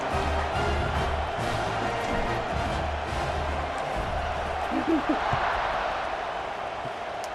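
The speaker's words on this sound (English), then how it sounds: "this crowd is buzzing after that last score" Stadium crowd in a college football video game, a steady loud roar and buzz of many voices after a score, with a game announcer talking over the top.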